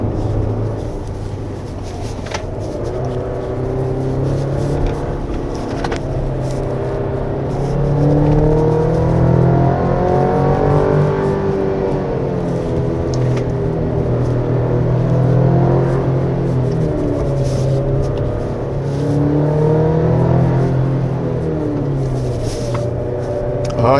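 From inside the cabin, the engine of a 2025 Chevrolet Colorado Z71 pickup hums steadily on a winding mountain road. Its revs rise and fall with the gear changes, over a constant low road rumble.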